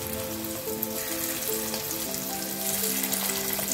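Steady, close crackling sizzle of chicken deep-frying in hot oil, with a faint background melody and no talking.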